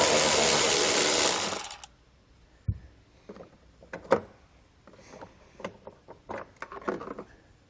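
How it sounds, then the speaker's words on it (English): A 10mm socket on a power driver backs out the spring-loaded bolt holding a light on a 2020 Jeep Wrangler Unlimited. A loud, close whirring burst lasts about two seconds, followed by scattered clicks and handling noises. "Right inside, you're going to have a spring-loaded bolt that holds our light in. Use a 10mm socket to remove it."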